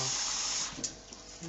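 Basmati rice being washed in a bowl of water, a steady running and sloshing rush of water close by, with brief splashes and stirring movements near the end.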